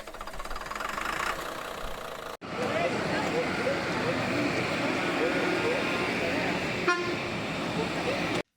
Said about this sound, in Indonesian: Suara klakson double decker tadi bisa kamu dengar